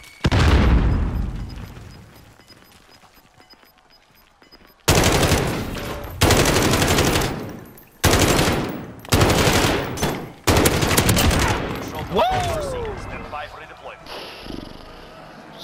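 Gunfire in Call of Duty: Modern Warfare, loud bursts of automatic fire in several long sprays separated by short pauses, opening with a heavy blast that fades away, with players talking over the action.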